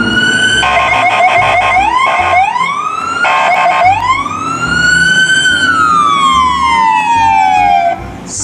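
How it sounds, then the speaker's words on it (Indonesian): A loud electronic toy ambulance siren close by, switching between a rapid warbling yelp and a slow rising-and-falling wail, then gliding downward. "ada mobil emergency rescue ambulans"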